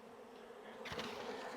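Steady buzzing of many honey bees at a hive, close and continuous, with a brief rustle partway through.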